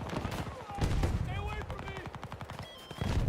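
Rapid automatic gunfire bursts in Battlefield 2042, a dense rattle of repeated shots with a player's voice talking over the shooting.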